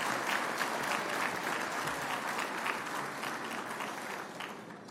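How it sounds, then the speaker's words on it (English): Conference audience applauding after a speaker's introduction, a steady dense wash of many hands clapping that holds at an even level for the full stretch without voices. "please give Pam a round of applause."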